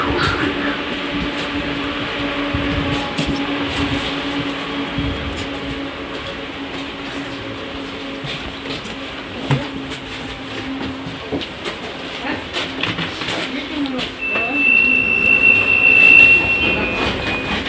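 St. Petersburg tram riding on rails along route 100: steady rumbling wheel noise with clatter and a brief high squeal near the end, continuous and fairly loud throughout.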